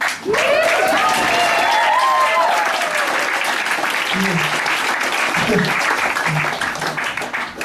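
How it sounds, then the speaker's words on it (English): A comedy-night audience gives a sustained round of applause for the new sound and light technician, dense clapping filling the whole stretch and tapering slightly at the end, with whoops and voices rising through the crowd. "Give a nice round of applause to our new sound and light technician, Martin."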